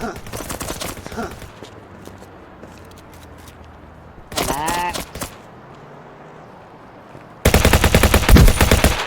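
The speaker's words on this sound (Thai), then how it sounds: "ใครยิงวะ" Bursts of automatic gunfire in the online role-play game Vice Online, several rapid volleys that end in a loud close burst, with game and voice sounds in between.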